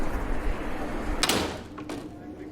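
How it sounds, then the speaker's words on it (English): A door on Baker Street in London is opened. It gives a sharp click and rattle in the middle, followed by a softer knock, heard over low background noise in a room. "Open the door."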